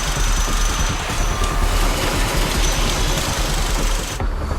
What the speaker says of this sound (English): the crew tightens the bolts